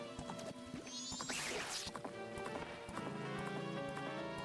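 Horse galloping in The Legend of Zelda: Majora's Mask: rapid rhythmic hoof clip-clops over game music, with a brief crashing burst partway through, fairly close and steady.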